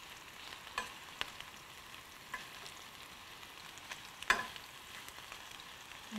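Spiced meatballs frying in a pan, a soft steady sizzle with a few faint clicks and one sharper tap of turning, low and unbroken throughout.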